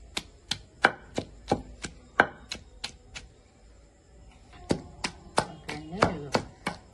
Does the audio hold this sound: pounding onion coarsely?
yes